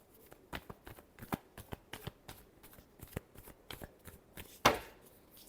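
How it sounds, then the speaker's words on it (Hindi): Tarot cards being shuffled by hand, a quiet series of crisp, irregular riffling flicks and slaps close up, ending on one louder snap, with no voice. "last shuffle"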